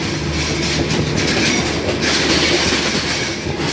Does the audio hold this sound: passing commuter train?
yes